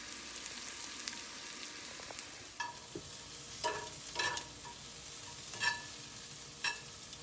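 Homemade fries browning in hot oil give a quiet, continuous sizzle broken by a few sharper pops and crackles scattered through the stretch, close by with no voices.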